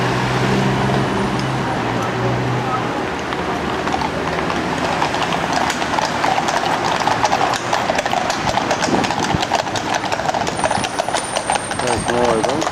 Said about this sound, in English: Horse-drawn carriages out in front of Buckingham Palace.